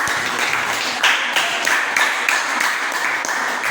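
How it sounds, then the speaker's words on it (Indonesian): A classroom audience applauds a group presentation with steady, brisk clapping that continues evenly from start to finish. "berikan tepuk tangan untuk presentasi dari kelompok kita"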